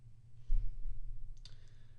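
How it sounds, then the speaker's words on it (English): Two light mouse clicks, the first sharper, sound about a second apart while a link is opened in Blackboard, with a quiet low hum behind them and no talking. "you can simply click on the link right here"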